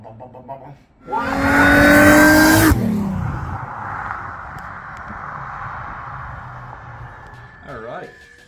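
A car engine for a Holden Monaro build revs sharply and loudly for a couple of seconds, then drops to a lower steady running tone that fades toward the end with a brief voice.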